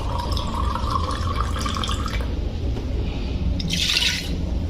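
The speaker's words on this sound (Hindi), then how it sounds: "तो अब इसमें थोड़ा सा पानी और डालते हैं, आटा डूब जाए इतना पानी लगभग हमें इसमें डालना है" Water runs steadily into a pressure cooker holding dough balls for dal baati, a continuous close splashing fill with a brief brighter gush near the end.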